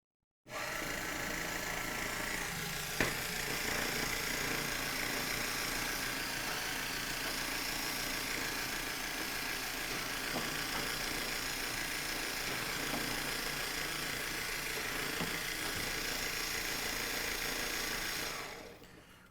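A motor with an ultraplanetary gearbox set to 3-to-1 reduction drives a robot ball shooter prototype, a steady close mechanical whir running for about eighteen seconds, with no talking.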